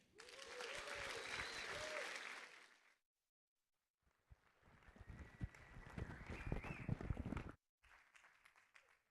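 An audience applauds to welcome a speaker onto the stage at a NEO cryptocurrency event, steady clapping lasting about three seconds, then after a gap a second burst builds louder and busier before cutting off, with a brief tail.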